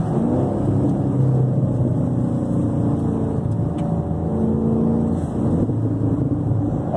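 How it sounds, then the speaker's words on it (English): Inside a Chevrolet Camaro Hot Wheels 50th Anniversary Edition with the moonroof open, the engine drones steadily under load, rising and easing in pitch as the car cruises, loud and close with no talk. "We have the moonroof open so you can hear the engine a little bit better."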